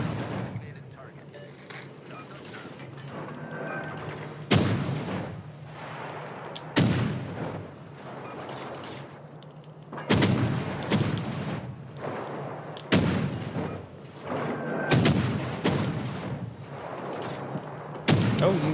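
Artillery fire from a soundboard during a naval video game livestream: about six heavy booming blasts at irregular intervals, each with a sharp onset and rumbling decay, over a steady low engine hum.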